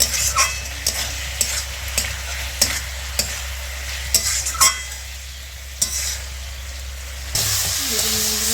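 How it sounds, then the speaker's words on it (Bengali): Masala stirred and sautéed in a pan for rui fish curry with fried potatoes, a steady close sizzle with regular spoon scrapes and taps against the pan, swelling into a louder hiss near the end, no talking. "একটু কষিয়ে নিয়ে"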